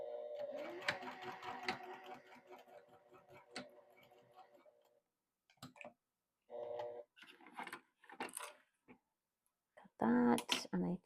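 A sewing machine stitches a PUL bowl cover in a steady rapid ticking run for several seconds, then short bursts of stitching follow between pauses, close and fairly quiet.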